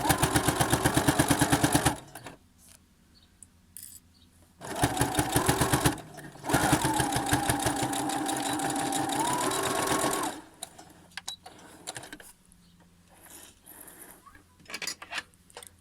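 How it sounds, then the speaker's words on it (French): Sewing machine stitching a fabric mask 1 cm from the edge with backstitching, a loud close whir in several runs of a few seconds each, broken by pauses filled with faint handling sounds. "on va piquer à 1 cm du bord au niveau du petit côté"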